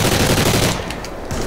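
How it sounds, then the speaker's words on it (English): A minigun in Call of Duty: Ghosts rips out rapid, dense, continuous gunfire, loud and close for a moment before the burst thins toward the end. "we get a minigun."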